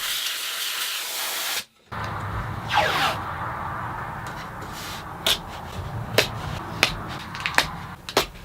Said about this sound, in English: I'm going to use a little bit of compressed air to blow the dust out of all the cracks.